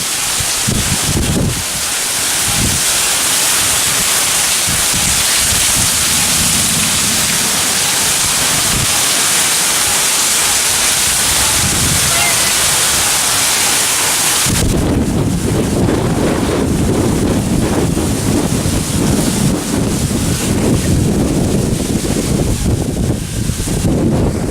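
Hurricane Harvey's wind and rain roar outdoors in a constant loud rush, with gusts buffeting the microphone, swelling even harsher partway through.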